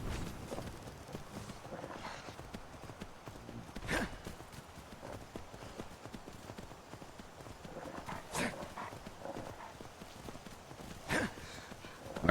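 Horse hooves clip-clopping steadily at moderate volume while riding across the landscape in Skyrim, a few louder thumps standing out, with faint background ambience.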